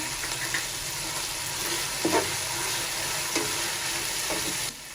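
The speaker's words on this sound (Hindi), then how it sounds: "2 चम्मच जीरा है सफ़ेद वाला, ये डालेंगे। 2 तेजपात है, ये डालेंगे।" White cumin seeds and bay leaves hit hot oil for beef yakhni pulao, setting off a loud, steady sizzle with a few stirring scrapes before the sound drops off abruptly near the end.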